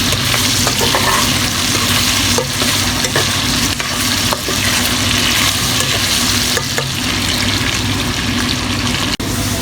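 Potato pieces half-frying in hot oil in a pan for aloo bhindi, a loud continuous sizzle with occasional scraping stirs, close up and with no talking.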